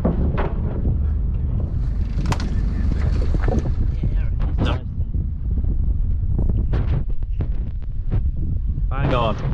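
A small boat moves across the water on a windy day while scallop diving, with a steady low rumble, wind buffeting the microphone and occasional knocks and splashes breaking through.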